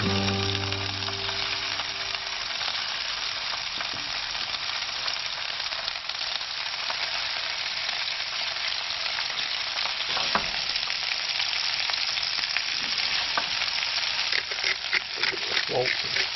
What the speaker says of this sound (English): I'm actually going to just sear the tuna first, seal it on either side.